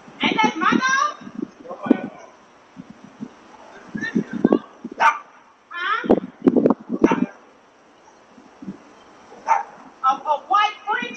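A white French bulldog barks and whimpers in short yelping bursts scattered through the clip, mixed with nearby voices talking and calling to her.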